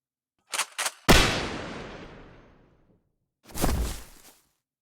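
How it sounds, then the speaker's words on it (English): Gunshot sound effect in an audio drama: two quick sharp cracks, then a loud booming shot with a long decaying tail, and after a pause another heavy blast, all close and isolated against silence. "One more gunshot booms through the air."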